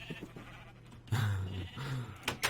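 Sheep bleating in a blocky Minecraft-style sandbox game, with a couple of close, clear bleats following one another over a quiet background.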